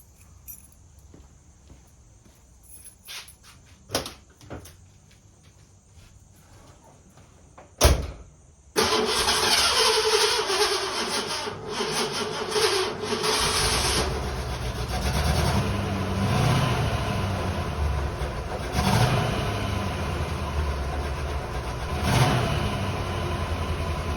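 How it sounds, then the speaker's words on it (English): A Lincoln Continental Mark VI with low compression is cold-started: faint clicks and rustling come first, then the engine catches with a loud burst and settles into a rough, steady idle that continues to the end. "Let's give it a cold start and see if it does any excess smoking."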